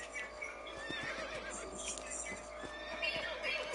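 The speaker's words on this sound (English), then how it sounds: "Let's get back on the horses and see what else is going on." A horse in the video game Red Dead Redemption whinnies over the clip-clop of hooves at moderate distance, amid game ambience with faint talk in the background.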